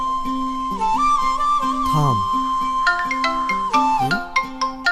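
A loud electronic ringtone melody plays close up, with bright tonal notes, sliding pitches and short repeated phrases.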